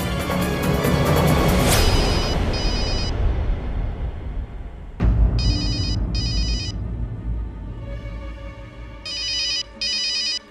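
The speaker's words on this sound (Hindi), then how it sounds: "आ गया तुम्हारे फूफा मुकुंद प्रसाद चौरसिया का फोन" A telephone rings in repeated electronic trills, coming in two pairs of close bursts after a loud, noisy stretch and a sharp crash, clear and alone with no voices.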